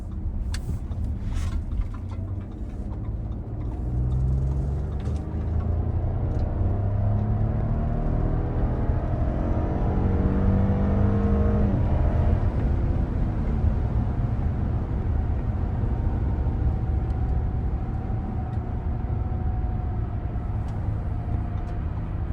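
A 2025 Audi Q7 55 Premium accelerating hard from inside the cabin, a steady loud engine roar rising through several gear changes with road rumble underneath, no talking.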